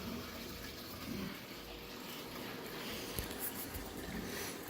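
Water circulating between a home aquarium tank and a DIY sump filter, a steady, moderately quiet wash of flowing water with no clear breaks throughout.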